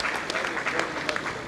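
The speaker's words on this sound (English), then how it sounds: "Give him another round of applause" Conference audience applauding an education commissioner at a national stakeholders' meeting, dense continuous clapping from a crowd, fairly loud and even across the short stretch.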